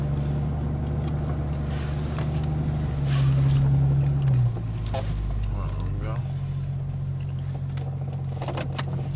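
A 1999 Jeep XJ engine idling cold in a driveway, a steady low hum that holds throughout with a brief rise in the middle; a voice talks faintly over it.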